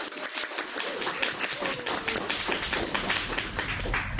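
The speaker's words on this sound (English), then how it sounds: "So once again, give yourself a big round of applause." An audience at a Toastmasters club meeting claps steadily for several seconds, a dense patter of hands that stays fairly even throughout.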